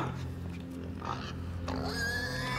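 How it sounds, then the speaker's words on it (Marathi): Pig grunting and snorting in the video game Inside, a few short low grunts over a droning game ambience, followed by a rising tonal squeal-like sound near the end. "याका खेचूचा भैया डुकरा खेचूचा माका"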